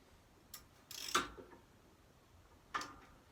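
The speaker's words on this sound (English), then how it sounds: "And then I will just swap over to a slightly meatier, bigger ratchet," A larger ratchet tightens a bolt on a trolley jack: a few short, sharp clicks spaced irregularly, quiet and close, with no talking.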